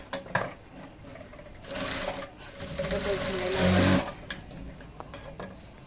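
Stitching fabric on a sewing machine in bursts, with a whirring run building and stopping, close by and mixed with a woman's speech.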